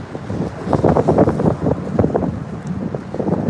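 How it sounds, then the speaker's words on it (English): Heavy wind buffets the microphone in rough, uneven gusts, a low rumbling roar that never lets up across the whole stretch. "Because it's windy as hell today"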